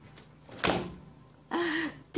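A door being opened with difficulty, giving a hard thunk followed by a rattling push and a brief strained vocal sound, close and moderately loud in a quiet room.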